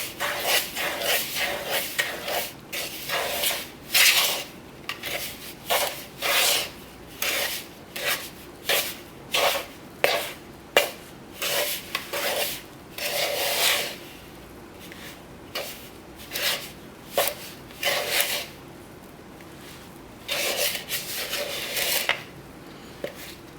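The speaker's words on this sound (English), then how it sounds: "Kind of mix this together and it should make a shaggy dough" Buttermilk biscuit dough is worked into a shaggy mass in a bowl, giving irregular close scraping and rubbing strokes in bursts, some quick and clustered, others spaced with short pauses.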